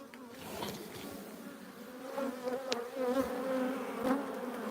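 Honey bees buzz loudly and close as a hive frame is shaken off during a midsummer brood check in Australia, a dense, steady drone with rising swells.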